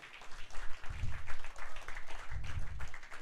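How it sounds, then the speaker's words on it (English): A small audience at an evening Bitcoin and tech meetup gives a round of applause, with scattered, uneven clapping at modest volume and low thumps of handling noise mixed in. "let's give a big round of applause for Andrew"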